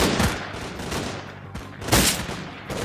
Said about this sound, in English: They were already shooting at us.